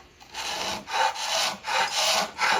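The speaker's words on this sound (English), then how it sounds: "So I can use my scraper somewhat" Hand scraper shaving wood at the start of a carved base, about five rhythmic rasping strokes, close and clear.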